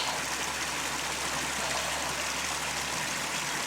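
A river on Dartmoor flows at a crossing with a steady, full rushing wash of water close by, constant and unbroken, with no voices.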